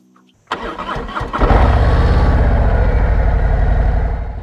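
A motorcycle engine starting before a ride: a sharp crank catches and fires, then settles into a loud, close, steady idle rumble.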